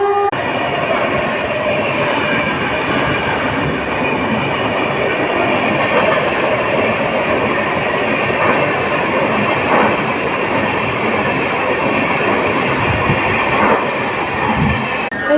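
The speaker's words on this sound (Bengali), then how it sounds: "এই যে আমাদের ট্রেন" A train at Howrah station gives off a loud, steady rumble with a continuous rolling clatter that lasts the whole stretch, and no one speaks.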